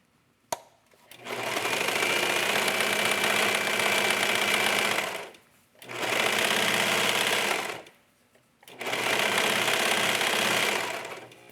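A sewing machine stitches lace mesh fabric in three long steady runs, loud and close, each a few seconds long and separated by short pauses.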